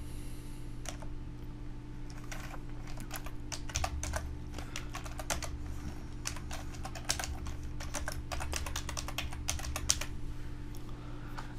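Fingers tapping a computer keyboard to enter an alt code for a symbol, a run of quick close clicks in irregular clusters over a faint steady hum, no speech.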